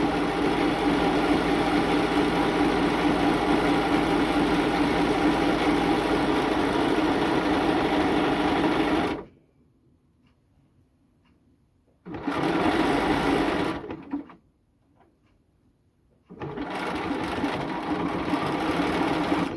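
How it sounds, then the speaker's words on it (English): Serger overlocking and trimming T-shirt seams: a loud, steady mechanical whir that runs for about nine seconds, stops, then returns in two shorter bursts separated by near silence. "my serger is actually cutting all the threads for me"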